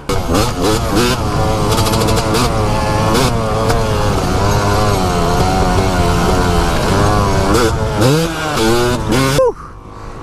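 A worn Yamaha YZ250 two-stroke dirt bike being ridden, its engine loud and close, revving up and down in repeated rising and falling waves before cutting off abruptly near the end.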